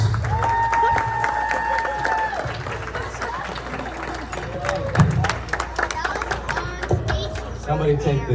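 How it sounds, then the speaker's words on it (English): Guests at a wedding reception clap and cheer after a best man's toast, dense applause mixed with crowd chatter and a few whoops, lively and close throughout. "Let's give a big round of applause."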